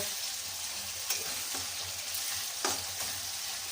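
Steady crackling sizzle of spices frying in hot oil for buttermilk tempering, close by, with a couple of sharper pops and spatters rising above the continuous hiss.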